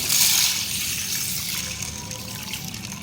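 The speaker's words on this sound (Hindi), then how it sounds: "अब इसको पानी डाल के मैं भिगो दूंगी।" Water is poured onto a bowl of mixed lentils, including masoor dal, to soak them, giving a steady close trickling splash for a few seconds with no talking.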